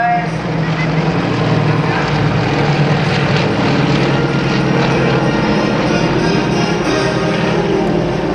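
Vintage Soviet-era warbird formation crossing airshow center at Greenwood Lake Airshow, a steady loud propeller drone holding throughout with a commentator's voice over the engines.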